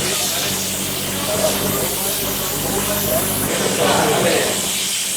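A pressure cooker hisses steadily inside a Davangere benne dosa hotel kitchen, a continuous, fairly loud steam rush that shifts slightly partway through, with faint voices and kitchen bustle underneath.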